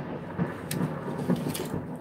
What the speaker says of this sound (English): That was a lightning strike. And it was close.